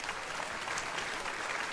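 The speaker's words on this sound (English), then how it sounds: "How many people here by applause are 45 or older?" A large comedy-show crowd of about 2,400 bursts into sustained, even applause, a dense wash of clapping filling the whole brief moment.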